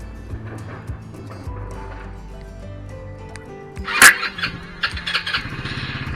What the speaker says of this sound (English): you press it and you hold down, it should start the scooter